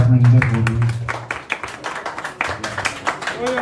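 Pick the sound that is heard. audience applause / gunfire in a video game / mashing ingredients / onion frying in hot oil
audience applause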